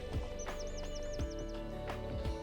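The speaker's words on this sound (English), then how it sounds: "A little group of linnets here on the road. You hear them twittering away as they fly off." A small group of linnets gives a quick run of high, rising twittering calls as they take off from a road, several notes in a row over outdoor background noise and low thumps.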